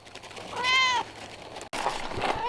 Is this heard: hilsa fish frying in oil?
no